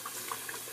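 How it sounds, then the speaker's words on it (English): Scalding hot water runs from a sink tap in a short, steady watery rush with a few faint bubbling splashes on top, close by and with no voices. "my water is coming out at boiling temperature here"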